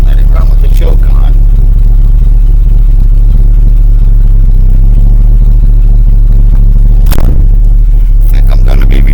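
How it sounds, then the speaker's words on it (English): An old truck engine idles with the choke on while warming up, running loud, close and steady with a deep low rumble and occasional clatter. "So I let it warm up about 4 or 5 minutes. Really strong fuel smell. Let it run with the choke on."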